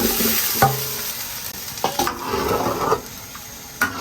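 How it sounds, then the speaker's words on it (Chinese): Meatballs go into a pot of milky mala hotpot broth and get stirred: steady bubbling and sizzling with several sharp clinks and scrapes of a utensil against the pot, heard close up. "锅底料化的差不多了，咱们下入丸子。"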